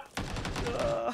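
A quick burst of gunfire cracks out in PUBG during a competitive esports match, several rapid shots packed into about a second, fairly close and alone.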